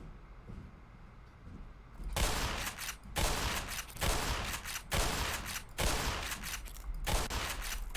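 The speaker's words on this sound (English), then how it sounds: "let's try the shotgun again" Shotgun blasts in the video game Black Mesa: after a quieter opening, about six loud, booming shots land roughly a second apart, each with a long rumbling tail.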